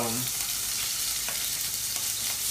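Shrimp sizzle steadily in a hot pan with garlic and lemon, a dense continuous frying hiss heard close with a few faint stirring scrapes, no talking.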